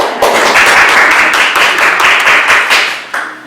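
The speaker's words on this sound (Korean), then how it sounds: "박수 한번 쳐주죠." A church congregation claps together during a Sunday service, a dense burst of applause that holds steady for about three seconds before tapering off.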